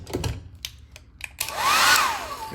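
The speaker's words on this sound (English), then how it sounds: "Hairdryer." A hotel bathroom hair dryer switches on after a few quiet clicks and handling noises, then blows with a steady, fairly loud whooshing roar that rises slightly.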